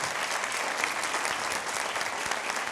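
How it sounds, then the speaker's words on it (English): Steady, dense applause from a school audience at a jazz band concert, sustained and fairly close for a few seconds with no break. "can you just give them a round of applause?"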